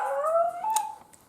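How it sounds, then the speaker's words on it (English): Dogs give a brief, drawn-out howl with a wavering pitch, close by and fairly clear, fading out after about a second. "Those are my dogs right there."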